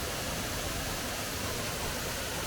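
A small waterfall beside the path up to Stickle Tarn in Great Langdale, Lake District, giving a steady, even rush of falling water with no voices.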